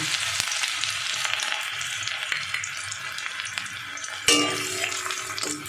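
Chopped ginger sizzling in hot oil with whole cumin in a pan for egg tadka, a steady bright crackle with a sudden louder hiss as more goes in near the end.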